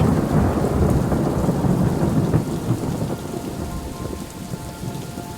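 Heavy rain pours steadily in the video game Superliminal while deep thunder rolls and rumbles, loud at first and gradually easing, with no voices.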